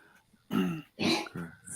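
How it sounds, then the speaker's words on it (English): A dog coughs in the background indoors, giving three short hoarse hacking bursts at moderate volume. "our dog keeps coughing in the background"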